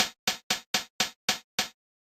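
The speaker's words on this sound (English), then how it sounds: "So it's this kind of crunchy hi-hat sound." A crunchy Linndrum LM1 drum machine hi-hat sample strikes seven times in an even, steady rhythm, each hit bright and sharp with a quick decay, close and dry, with no voices.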